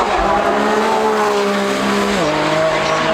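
A new Lamborghini hybrid supercar drives up the Goodwood hill, its loud engine wailing at high revs close by with a clear gear change partway through, then pulling on steadily.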